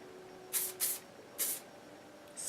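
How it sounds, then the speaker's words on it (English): Volumizing hair spray hisses onto lifted hair in short bursts, two quick puffs, another, then a final one starting, close and crisp against a quiet room. "do a little spray,"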